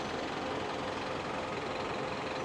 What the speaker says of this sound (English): And that's our bus.